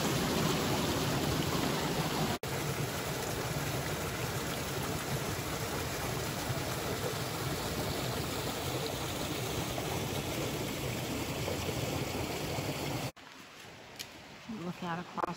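A creek rushes beside an icy stretch of the Appalachian Trail in southern Pennsylvania, a loud, steady broadband water roar that continues for most of the time before dropping away near the end.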